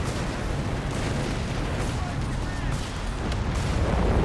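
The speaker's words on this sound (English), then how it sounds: "Another Howitzer for Havoc. More artillery, more democracy." Howitzer artillery fire in the video game Company of Heroes 3, a dense rumble of distant booms and blasts blended into continuous battlefield noise, steady and loud throughout.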